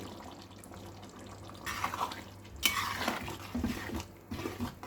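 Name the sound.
cashew paste added and stirred into korma in pan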